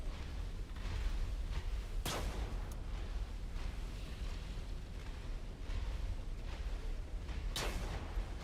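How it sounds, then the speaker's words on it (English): Two sharp shotgun blasts at a door in the extraction video game Sand, several seconds apart, crack through a low rumbling game background, sounding somewhat muffled and distant. "It was other team shooting the door with the shotgun."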